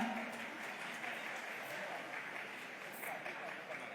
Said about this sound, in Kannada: ಪ್ರಾಸ್ತಾವಿಕ ನುಡಿಗಳಿಗಾಗಿ ಚಪ್ಪಾಳೆಗಳ ಮುಖೇನ ಪ್ರೀತಿಯ ಆಹ್ವಾನ.